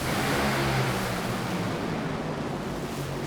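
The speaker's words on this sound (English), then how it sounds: "Thundering into the Florida net, a huge fireball for Brittany Force" Top fuel dragster roaring down the drag strip at the NHRA Gatornationals in Gainesville, Florida, a loud, continuous, broadband engine blast that fills the whole clip and eases only slightly toward the end, with no voices.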